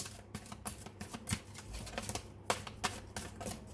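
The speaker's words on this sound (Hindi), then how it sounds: "बट अभी मुझे शफल करना है" Tarot cards being shuffled during a reading, a quiet run of soft riffling clicks and slaps in an uneven rhythm, close by, with no talk over it.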